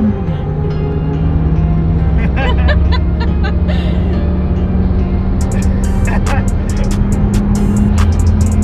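Car doing a burnout, a steady loud engine drone with tire noise, close by, under voices and some laughter, with sharp crackling bursts toward the end.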